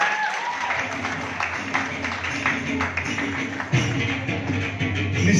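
Audience applause at a college of education award ceremony, a dense steady patter of many hands clapping that continues throughout.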